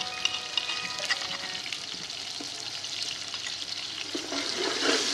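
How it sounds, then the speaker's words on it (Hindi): Two to three spoonfuls of ginger garlic paste fry in a pot for potato rice (aloo tahari). A steady close sizzle crackles throughout, with some stirring scrapes and no talking. "थोड़ा सा भून लेंगे।"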